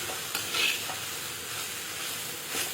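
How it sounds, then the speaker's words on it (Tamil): Cluster beans stirred with grated coconut in a pan: a soft, continuous frying hiss broken by a few light scrapes and taps of the spatula, fairly quiet and with no voices. "எல்லா தேங்காயுமே போட்டுப்போம் நல்லா கிளறி விட்டுக்கலாம்"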